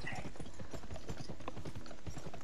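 Horse hooves clip-clop in steady rhythm in a Wild West video game, close and continuous, with faint background tones.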